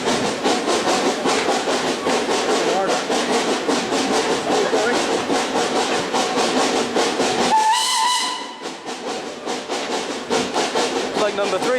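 Steam locomotive on the Plym Valley Railway working uphill over a bridge on a December Christmas-special run, a steady hissing, chuffing roar throughout, broken near the end by a short, loud whistle blast, with people talking faintly.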